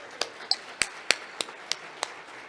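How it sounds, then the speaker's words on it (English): Single person's hand claps close to a microphone at the National Gathering on Unmarked Burials in Winnipeg: about eight loud, sharp claps at an unhurried, steady pace with quiet room tone in between. "Let's give them another big round of applause."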